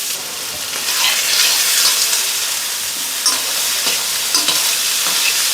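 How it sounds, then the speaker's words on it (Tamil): Onions and green chillies fry and get stirred in hot oil for chicken biryani, a steady loud sizzle with scraping stir strokes coming through every second or so, no voices. "கட் பண்ணி வச்சுருக்கிற வெங்காயம், பச்சை மிளகாய் சேர்த்து வதக்கி விடுங்க"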